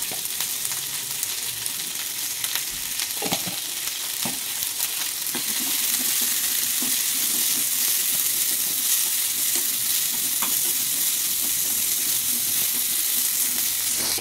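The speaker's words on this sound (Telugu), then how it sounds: "చింతపండు అండి, ఒక చిన్న నిమ్మకాయ సైజ్ అంత చింతపండు, వెల్లుల్లి ఇలా వేయించుకోవాలండి" Tamarind and garlic frying in oil in a pan for chutney, a steady, dense sizzle throughout with occasional stirring scrapes, close and loud, with no talk.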